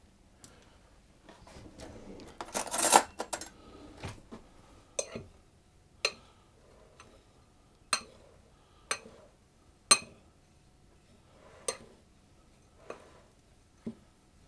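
Oats are being mixed in a bowl for crunchy oat biscuits, with a spoon giving sparse, distinct clinks and taps against the bowl, roughly one per second, after a brief louder scrape. No one speaks.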